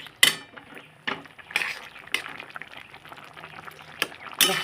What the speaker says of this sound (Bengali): সেটার ভিতরে দিয়ে দিলাম দিয়ে একটু ভালো করে মিশিয়ে নিলাম